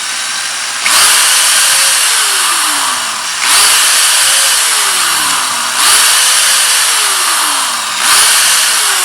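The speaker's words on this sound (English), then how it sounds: "So using a number 36 drill, what we need to do is set it down on the table, and we need to go into the 2 holes" A power drill with a number 36 bit bores holes in a part for a Suzuki Samurai EFI conversion, loud and close, whining up in four repeated bursts, each rising then sagging in pitch under load.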